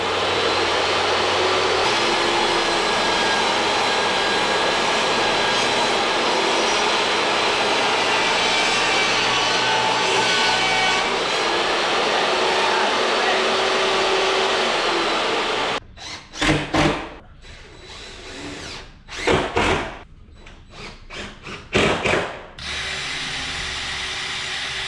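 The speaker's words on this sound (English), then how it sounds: "We're just gonna rip some plywood for the top." Power saw ripping plywood, a loud continuous whining cut lasting about fifteen seconds, followed by several short bursts of sawing and a return to a steady motor hum.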